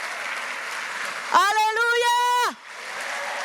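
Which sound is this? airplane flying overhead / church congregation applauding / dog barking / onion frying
church congregation applauding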